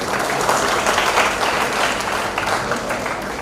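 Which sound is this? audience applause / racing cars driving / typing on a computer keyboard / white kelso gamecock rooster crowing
audience applause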